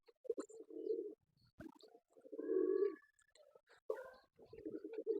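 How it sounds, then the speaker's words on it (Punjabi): Pigeons at a pigeon show coo in low throaty bursts, close and fairly quiet, with short pauses between calls. "ਇਹ ਬੜਾ ਜ਼ਬਰਦਸਤ ਕਬੂਤਰ ਹੈ"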